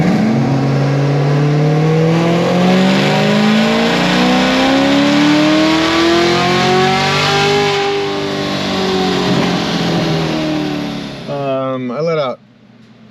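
Chevrolet Camaro ZL1 on a dyno roars through a long, rising full-throttle pull, pitch climbing steadily for about ten seconds before a quick lift, a few short revs and silence.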